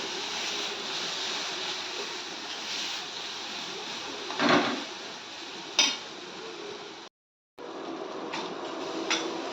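Masala being sautéed in oil in a pan for dhaba-style shev bhaji, a soft steady hiss with a couple of louder clinks from stirring and a short dropout near the end.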